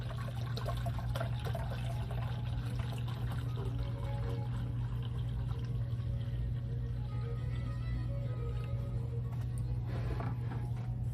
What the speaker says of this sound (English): I'm going to fill up our 2-quart unit.